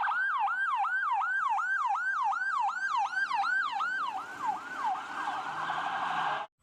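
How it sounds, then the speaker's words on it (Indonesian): A toy ambulance sounds its siren, a rapid repeating electronic wail in clear, evenly spaced sweeps that turn ragged near the end before cutting off abruptly. "ternyata mobil ambulans"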